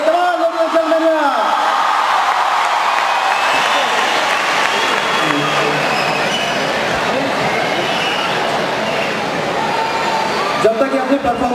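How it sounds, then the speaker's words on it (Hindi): Loud, dense applause and crowd noise at a Zee Saregamapa live concert, a sustained roar of clapping filling most of the stretch, with a voice briefly heard at the start and the end. "इधर लाइव जोरदार तालियां होनी चाहिए"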